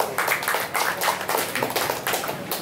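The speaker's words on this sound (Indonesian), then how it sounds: "Jangan tepuk tangan dulu." Audience at a casual talk event in Aceh claps hands in a dense, steady burst of close applause lasting a few seconds, with no voices over it.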